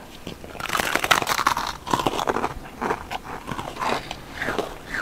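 Waffle cookies with chocolate inside crunch loudly and closely through several seconds of repeated crisp bites and chewing, with no talk over them.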